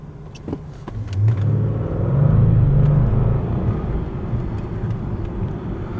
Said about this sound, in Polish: Wszyscy zostali na światłach, a my ruszyliśmy sobie tylko do 50.